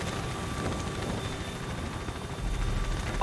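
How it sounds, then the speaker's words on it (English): Helicopters arriving in the Call of Duty: Ghosts video game set a steady, broadband rotor roar with low rumble, continuous and fairly loud throughout, with no speech. "Choppers are inbound"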